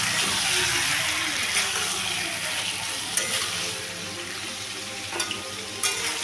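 Taro stolons fry in a pan with shrimp and chickpeas, giving a loud, dense sizzle that runs throughout, softening slightly toward the end, with a few sharp spatula taps.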